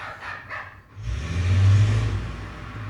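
A dog in an anime episode reacts to demons with a short, loud, low growling bark, rising after a brief quiet moment, with no talk over it.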